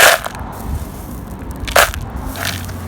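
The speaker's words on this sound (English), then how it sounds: "I'm just going to put some of these little scoria rocks on the bottom" Small scoria rocks are dropped onto the bottom of a pond pump filter, giving a few sharp gritty clatters and crunches against a quiet background.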